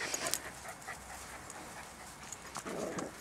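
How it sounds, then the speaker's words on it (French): A dog pants softly at close range, quick faint breathy huffs repeating in an uneven rhythm against a quiet background. "Il y a un chien qui coince dedans."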